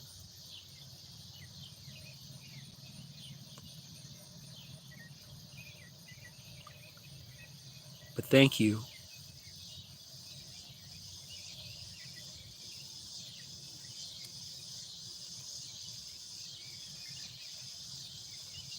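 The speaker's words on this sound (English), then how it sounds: "the song of the cicadas." At sunset, cicadas and insects keep up a continuous, high, shimmering drone with faint bird calls, while a nearby voice briefly speaks midway.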